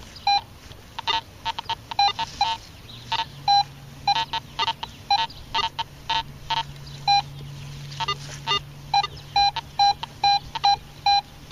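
A Garrett AT Pro metal detector fitted with a 5x8 search coil gives off rapid, repeated electronic signal beeps in irregular bursts as it sweeps over junk targets, with a low steady hum running underneath and no voices.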